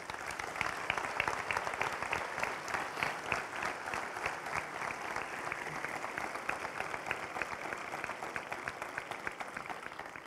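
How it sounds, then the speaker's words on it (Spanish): Sustained audience applause at a 2019 town festival presentation of the queen, mister and court of honour in Spain, dense steady clapping from a large crowd lasting throughout, without speech. "un fuerte aplauso para ellos."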